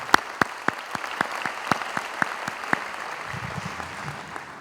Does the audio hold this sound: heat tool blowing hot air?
no